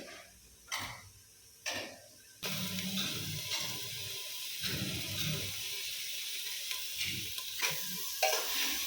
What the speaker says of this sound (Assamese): মাংসখিনি যেতিয়ালৈকে তেলটো নোলায় তেতিয়ালৈকে এনেকৈ অলপমান দেৰি ভাজি থাকে।